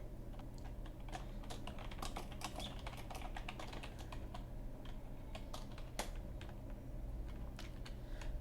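Fast, steady typing on a computer keyboard while entering code, close and fairly quiet, with crisp key clicks over a low hum for about eight seconds.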